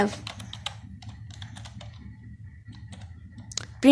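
C code is typed on a computer keyboard, with close, quick bursts of clicky keystrokes in uneven runs, separated by short pauses, over a quiet low background hum.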